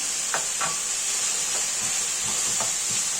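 Steady sizzling hiss of onions and sucuk sausage frying in a pan, with a few soft clinks of a utensil stirring, close up and continuous.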